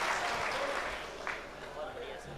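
Audience applause greets the poet Sunit Kumar Aatish at a mushaira in Yavatmal, a steady broadband clapping from a crowd filling the whole moment and easing slightly toward the end, with some voices mixed in.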